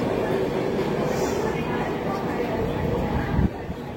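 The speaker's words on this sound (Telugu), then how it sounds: "మన ట్రైన్ అయితే నెల్లూరు స్టేషన్ నుండి అయితే బయలుదేరిపోయింది." Pinakini Express train with new coaches running just after leaving Nellore station: a steady, loud rumble of wheels and carriages continues throughout, with a sharp clunk near the end and a voice talking over it.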